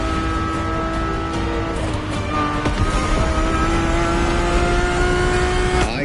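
Heard from inside the cabin, a car engine revs loudly with a steady droning tone whose pitch climbs and shifts as it accelerates, continuous throughout with no talking.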